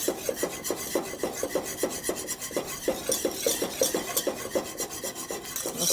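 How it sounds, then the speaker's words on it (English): Butter and vanilla frosting mixture is stirred briskly in a bowl, a steady run of scraping, rasping strokes at a quick even rhythm, close and fairly loud with no talking. "I'm going to mix this well"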